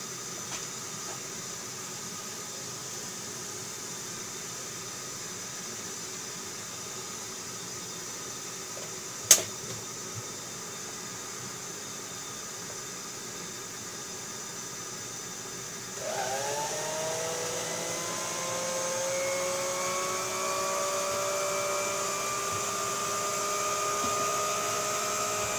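An old Electrolux Automatic Model G canister vacuum cleaner gives a steady airy hum with one sharp click, then its motor whine climbs and settles into a louder, rising drone that runs on alone with no talk.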